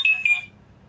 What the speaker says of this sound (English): my phone's leaking noise